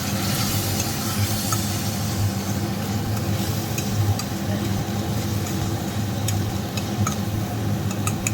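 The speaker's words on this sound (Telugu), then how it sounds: "ఈ పెసరపప్పు ఇలా వేగితే చాలా బాగుంటుంది." Moong dal and cabbage fry in a pan with a steady, dense sizzle and crackle throughout, with occasional faint ticks of stirring nearby.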